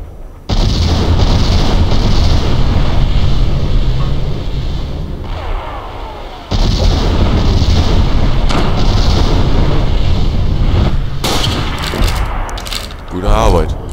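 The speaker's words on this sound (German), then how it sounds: "Explosion verdecken Ihre Schussgeräusche." Continuous loud explosions and booming gunfire from a World War II sniper video game fill the scene, with a brief pause midway before the blasts resume alongside sharp shots.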